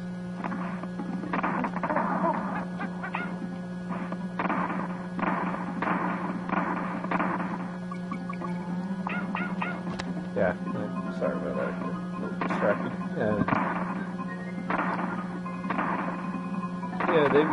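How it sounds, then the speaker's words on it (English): Barrel cannons in the Donkey Kong Country video game fire as a string of short, dull thumps and pops over a steady hum of game sound. "All the barrel cannons in this game."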